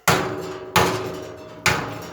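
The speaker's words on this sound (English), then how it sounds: "Okay, so I got my mallet here." A rubber mallet strikes the arbor of a bent industrial fan blade three times, each a loud, close, hollow knock that rings briefly before the next blow.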